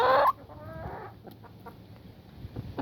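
Wyandotte and Tetra laying hens cluck close by, opening with a loud, sharp burst of clucking and then settling into softer, intermittent clucks and rustles over a quiet farmyard background.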